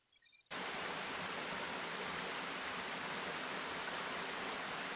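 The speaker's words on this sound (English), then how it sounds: "the portion of the waterfall where most of the water is coming down through the rocks" A waterfall at Hidden Falls pours through rocks, starting after a brief quiet moment and then holding as a loud, steady, broadband roar of rushing water close by, with no voices.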